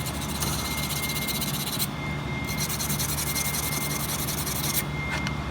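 Brush scrubbing 3/0 cable to clean it before cad welding, producing a steady, close, dense scratchy rubbing with rapid back-and-forth strokes and brief pauses throughout.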